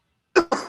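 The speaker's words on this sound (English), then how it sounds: "I was coughing my head off over here" A person coughs twice in quick succession, close and loud, with a brief pause between the harsh bursts after a moment of silence.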